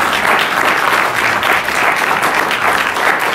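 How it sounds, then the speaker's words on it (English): Audience at an evening lecture event gives a sustained round of applause for the Baroness, a dense, steady wash of clapping from a room full of people, with no talk over it. "maybe a final round of applause for Baroness"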